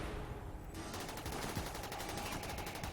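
Rapid gunfire from the video game Rimworld as enemies shoot at defensive turrets, dense rattling bursts of automatic fire running continuously over a busy background of game noise.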